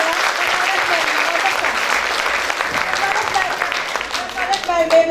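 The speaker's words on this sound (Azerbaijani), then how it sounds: "Elbrus müəllimin əziyyətini bir alqışlayalım" Audience applause fills a folk instrument concert hall at a Novruz festival, dense steady clapping from a large crowd throughout, swelling slightly near the end with a few brighter claps standing out.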